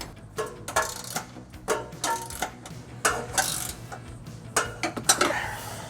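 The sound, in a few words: tightening trailer hitch bolts with a 19mm wrench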